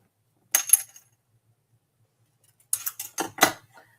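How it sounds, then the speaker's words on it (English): Scissors snipping paper at an angle for a handmade card, one short cut followed after a pause by a quick cluster of crisp close snips in an otherwise quiet room. "I'm just going to cut a little bit on an angle"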